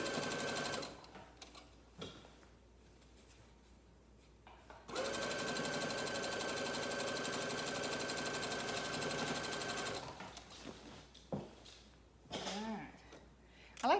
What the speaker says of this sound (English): I like to take the pins out before I go over them with the sewing machine